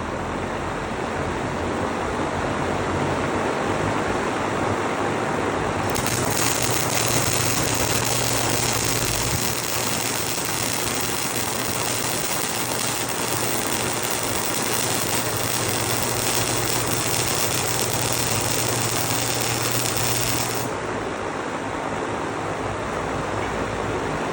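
Two pieces of metal are welded together, giving a steady, crackling, buzzing hiss that runs for about fifteen seconds over a constant background hum.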